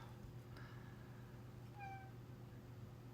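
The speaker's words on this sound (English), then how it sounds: "Zelda's in here meowing" A cat named Zelda gives a couple of faint, short meows indoors over a steady low electrical hum, distant and quiet rather than close to the microphone.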